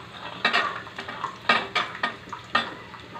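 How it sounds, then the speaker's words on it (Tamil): Small onions frying in oil for a South Indian kulambu, heard as repeated close scraping and clattering of a spoon against the pan in irregular strokes over a faint sizzle, with no talking. "இப்போது சின்ன வெங்காயம் போட்டுக்கலாம்"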